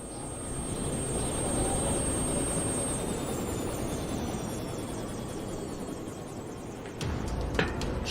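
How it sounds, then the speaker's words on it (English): A helicopter approaching from outside in Yakuza Kiwami, a steady loud rotor roar with jet-like whine holding through the scene, building slightly before a brief shift near the end. "abruptly cut short by a helicopter whirl from the outside."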